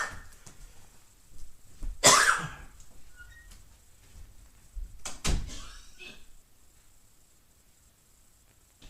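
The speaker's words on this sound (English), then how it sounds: "I got a cough with acid reflux" A man coughs twice with a long pause between, sharp isolated bursts close to the mic in an otherwise quiet room, the second cough shorter and followed by faint rustling.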